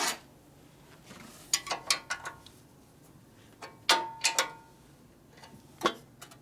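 Wrench loosening a part during repair work on a 1965 Harley-Davidson FLH panhead with a 74 ci engine: a series of metallic clicks and ratcheting taps in small bursts, close and fairly quiet, with pauses between them and no talking.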